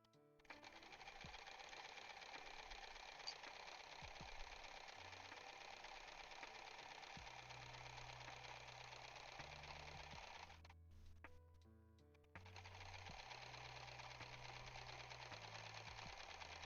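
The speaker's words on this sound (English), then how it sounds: "here's our little a little area up top that we're just gonna sew right down over" A sewing machine runs steadily while stitching fabric at a craft table, a continuous whirring hum that pauses briefly near the end before resuming.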